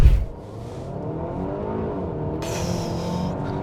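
A Skoda Superb Laurin & Klement with a 265 hp engine and 4x4 accelerating, a steady rising engine drone heard from inside the car, joined by a brighter hiss of road and wind noise partway through.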